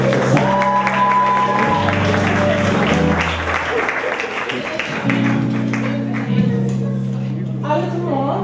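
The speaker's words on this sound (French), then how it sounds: "C'est pour ça que vous l'applaudissez encore une fois." An audience at a poetry open-mic night applauds, the clapping blending with sustained tonal sounds and voices that carry on across the whole stretch.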